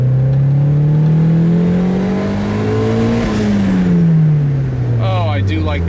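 A car running Megasquirt engine management drives down the road, its engine note climbing steadily then falling as it eases off, loud and close throughout, with a brief squeal near the end.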